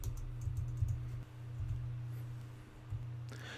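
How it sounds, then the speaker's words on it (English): Someone types on a computer keyboard with quiet, uneven bursts of soft key clicks over a low steady hum. "I can sit here and I can type in the details of my signature"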